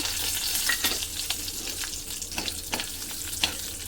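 Peanuts and curry leaves crackle and fry in hot oil for curry rice, a steady close sizzle broken by sharp pops and stirring scrapes every half second or so, with no voices.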